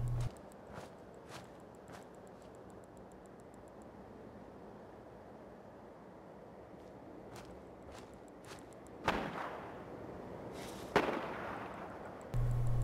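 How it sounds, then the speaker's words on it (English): Distant gunfire in the Fallout 4 video game: a few sharp, far-off cracks stand out late against a quiet, hissing ambience, with faint scattered pops earlier. "Gunshots in the distance."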